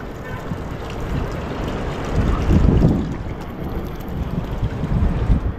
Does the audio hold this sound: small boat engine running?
yes